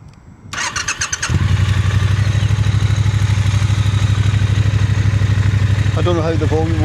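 A Triumph Bonneville T120 motorcycle engine cranks, catches, and settles into a loud, steady raspy idle close by; a short voice comes in near the end.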